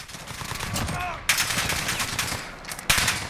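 An MK 18 rifle is hip-fired in the game Call of Duty Modern Warfare in rapid automatic bursts, with crackling shots layered over background battle noise and two sharper bursts standing out.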